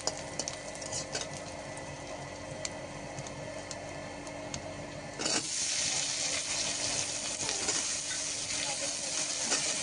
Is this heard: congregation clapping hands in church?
no